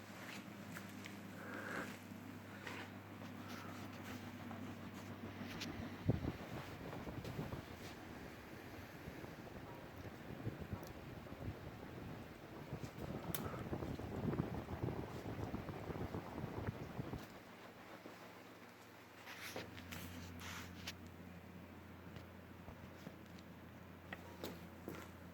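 A Casablanca Avalon ceiling fan spins with a steady, airy whoosh over a low hum; the rush of air swells through the middle stretch, then settles back to a gentler, even drone.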